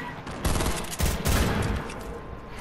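Gunfire in a Fortnite Team Rumble match, a loud dense burst of rapid shots with a heavy spell near the start and another around the middle, then continuing bursts, with no talk over it.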